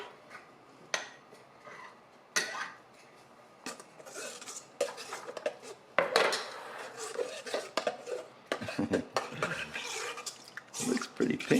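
Sourdough starter being stirred with fruit juice in a bowl for bread dough, giving irregular clinks and scrapes of a utensil against the bowl, moderately close, with a few louder knocks and a little wet sloshing.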